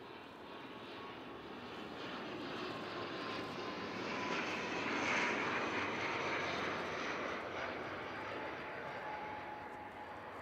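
An ATR turboprop airliner passes at a distance near an airport in Christchurch, its engine drone swelling to a peak midway and then easing off, a steady broad roar with a faint tonal whine.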